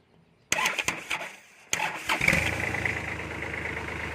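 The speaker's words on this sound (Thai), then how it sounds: "เครื่องสตาร์ทติดง่ายนะครับ" A Kubota 3408 farm tractor: a few sharp clicks and a short crank, then the diesel engine catches and settles into a steady low idle, close by.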